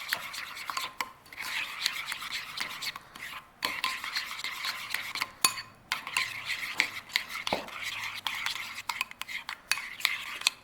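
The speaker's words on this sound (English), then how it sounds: "then we will mix the mixture together" Utensil stirring a lemon juice sauce mixture in a bowl, with steady scraping and clinking strokes against the sides continuing throughout, close and fairly loud, with a few sharper taps along the way.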